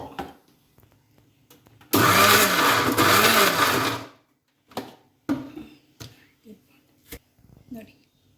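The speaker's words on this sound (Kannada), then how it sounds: "ಇದನ್ನು ಪಲ್ಸ್ ಮೋಡಲ್ಲೇ ನಾವು ಗ್ರೈಂಡ್ ಮಾಡ್ಕೋಬೇಕು" A mixer grinder blends cooked leafy greens in short pulses, letting out a loud whirring burst that lasts about two seconds before it cuts off. Brief clicks and a voice follow.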